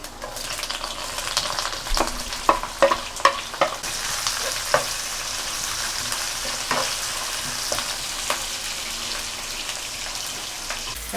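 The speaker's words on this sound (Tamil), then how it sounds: "எண்ணெய் நல்லா சூடு ஏறிட்டோன்னே நம்ம இந்த தாளிப்பு ஜாமான்லாம் போட்டுருவோம்." Spice tempering in hot oil for a Tamil squid (cuttlefish) tokku, a steady close sizzle and fry hiss with a few sharp crackles and pops early on, running unbroken without any voices.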